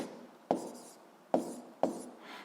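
A math equation being written out by hand: three separate sharp taps of the writing tool, each followed by a short scratchy stroke, close and quiet with no talking.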